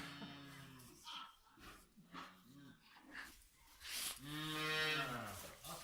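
Farm cows low up close in several drawn-out, rising and falling moos, with a person talking between them.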